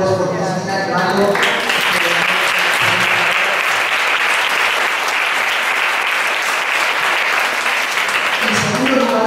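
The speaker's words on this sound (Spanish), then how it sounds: "quisiera pedir un fuerte, fuertísimo aplauso por nuestros dos productores, por Cristina y Mario." Loud, sustained applause from a conference audience at an international education conference, dense clapping that holds steady for several seconds after a brief spoken lead-in and tails off at the end.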